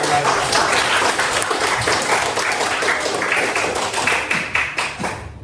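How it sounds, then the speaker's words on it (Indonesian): Classroom students clap together in a steady, dense burst that fills the room and fades toward the end, with a few sharper taps standing out from the mass of hands. "tepuk tangan untuk kita semuanya"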